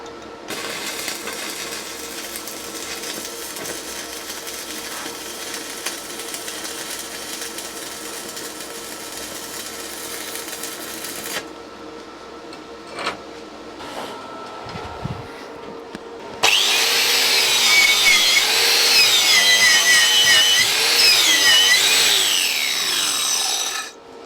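Stick welding on 5mm steel plate with a 6013 rod at 70 amps gives a steady hiss at first. Partway through it turns into a louder, harsh crackling sizzle, then cuts off sharply at the end.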